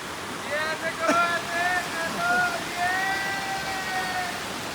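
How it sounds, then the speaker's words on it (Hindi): Water rushes steadily near a waterfall at Rishikesh, a broad continuous roar with faint tonal traces over it, heard close and fairly loud throughout. "पानी तो पूरा जा रहा है यहाँ से"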